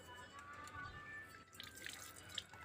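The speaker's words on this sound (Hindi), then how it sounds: "तो चलो इसको धो लेता हूँ एक बार" A mango seed rinsed under running tap water, with soft dripping and trickling that is quiet and close, with a few brighter splashes toward the end.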